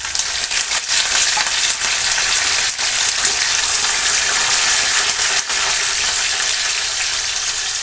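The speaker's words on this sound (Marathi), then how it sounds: "कढीपत्ता धुवून घेतलेला, त्याच्यामध्ये थोडंसं त्याला पाणी होतं आणि तो आवाज तडतडल्यासारखं होत आहे" Washed curry leaves dropped into hot oil with mustard seeds for kande pohe crackle and sizzle loudly and continuously, close up, with a few sharper pops through the dense frying hiss and no talking.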